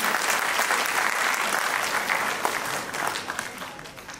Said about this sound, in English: So for every achievement you have to clap.